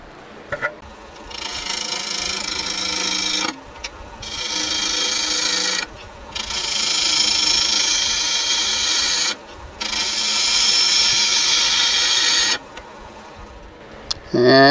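A wood lathe turns and rounds a hollow-form blank as a tool cuts it, producing loud scraping, rasping bursts several seconds long separated by brief pauses, close and steady.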